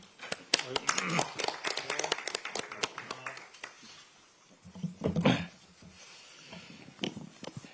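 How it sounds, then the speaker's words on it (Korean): Audience applause for Democratic Party candidate Kim Kyung-soo at a nomination event, a burst of clapping in the first few seconds that fades out, with murmuring and voices mixed in before quieter talk follows. "김경수 후보에게 아낌없는 박수를 보내드리겠습니다."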